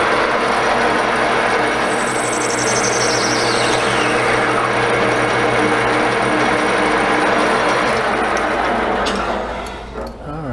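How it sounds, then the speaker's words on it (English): A metal lathe facing the end of a chucked piece of Delrin plastic, a steady loud motor hum with a whirring cut and a brief rising whine, running continuously before trailing off at the end. "I got my piece of Delrin chucked up in my lathe."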